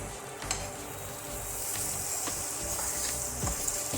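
Bitter gourd peel bhurji frying in a pan, a steady close sizzle and crackle with a few light scraping stirs scattered through, no talking.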